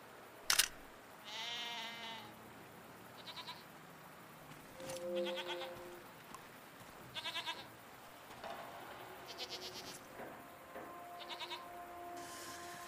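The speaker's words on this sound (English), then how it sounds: "Are they simply goats?" Goats bleat in a series of separate calls spread through the scene, some louder and close, others softer, with brief gaps of quiet between them and an odd click near the start. No one speaks.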